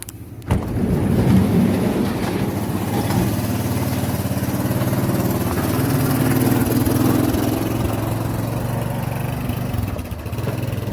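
The engine of a 1984 Honda ATC 200E three-wheeler starts with a sharp catch, then runs at a steady, loud, rumbling idle close by for the rest of the stretch, with no talking.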